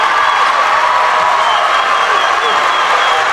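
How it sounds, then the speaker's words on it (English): The Hesston crowd cheers and applauds at a high school boys basketball game, a dense, steady wash of clapping and roaring voices filling the gym without letup. "Hesston crowd starting to feel it."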